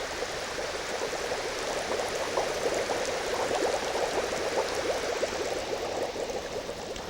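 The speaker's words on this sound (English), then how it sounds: "As I increase the amount of bubbles, the ball will sit deeper in the fluid" Air bubbles stream up through a tank of water in a buoyancy demonstration, making a dense, steady fizzing and gurgling wash that holds at an even level throughout with no voices.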